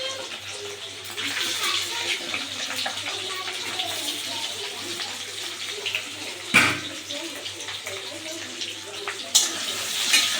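Potatoes frying in hot oil: a close, steady sizzling hiss continues throughout, broken by a couple of sharp clinks, with faint voices in the background.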